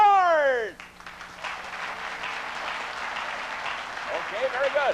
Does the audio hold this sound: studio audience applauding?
yes